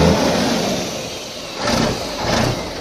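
A modified car engine with a turbo revs at close range in a steady, loud roar, surging twice near the end, with no voices over it.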